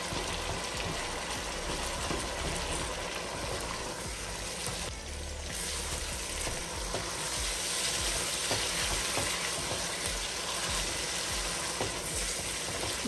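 Chicken browning in a pan with salt for a smoky yogurt chicken dish, giving off a steady, dense sizzle that holds close and loud throughout with no voices.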